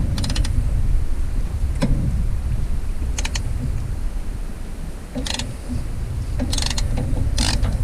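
A socket wrench ratchets in short, scattered bursts of quick clicks while loosening nuts on a Ditch Witch 3500 trencher, fairly quiet over a low rumbling background.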